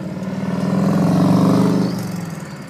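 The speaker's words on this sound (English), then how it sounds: "Ingham truck coming up." An Ingham truck in a supply convoy goes by close, its engine swelling to a loud rumble mid-pass and then fading as it moves away.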